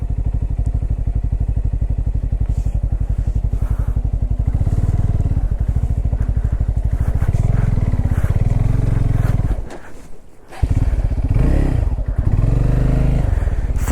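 Bajaj Pulsar N250 motorcycle riding off-road through mud in first gear, a loud close engine chug with revving surges, a brief sudden drop-out, then the engine pulling hard again.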